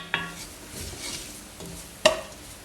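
Spices and onions cooking in a pan for an apple and mango chutney, a low sizzle under two sharp clinks of a utensil against the pan.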